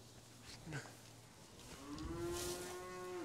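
Dairy cows on a farm moo loudly in one long, drawn-out low call that rises and holds for over a second, with a shorter lowing sound just before it and farmyard noise around.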